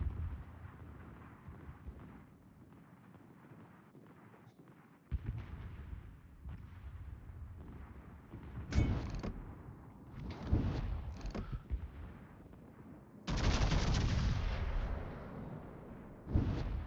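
Warship gunfire in World of Warships: a World War II-style battleship firing at a Cleveland cruiser, heavy booming salvos at intervals over a steady rumbling background, with loud blasts clustered near the middle and a long roaring barrage toward the end.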